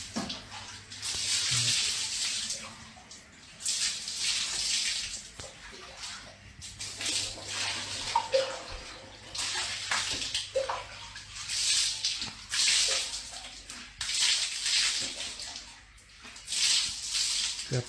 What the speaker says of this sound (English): What sounds like someone splashing water in the bath amidst the darkness can be heard.